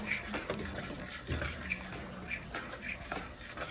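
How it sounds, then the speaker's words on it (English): A spoon scrapes and stirs through thick Jamaican cornmeal porridge as milk is worked in, soft rhythmic rubbing and swishing strokes against the pot, close and quiet. "Just a little bit more milk and stir it."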